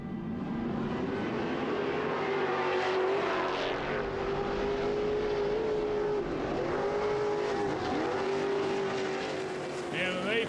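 Off-road race trucks rev and roar at a short-course racing event, a loud, sustained engine drone with shifting pitch as they pull away together, under a commentator's continuous talk.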